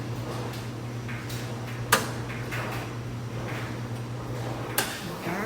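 Washer doors at a shared laundry room are shut one after another, two sharp thumps about three seconds apart over a steady machine hum.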